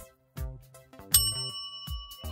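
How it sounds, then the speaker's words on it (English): An electric bell rings with a bright, struck metallic tone whose clear overtones linger and fade, heard close against other low sounds. "How does an electric bell work?"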